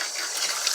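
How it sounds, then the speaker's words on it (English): Cold water runs steadily from a household faucet with its aerator removed, a close, continuous rushing hiss with no pauses. "So you run the cold water for a little bit."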